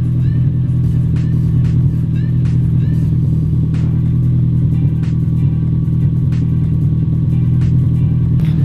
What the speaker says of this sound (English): The idle on this thing sounds absolutely wicked.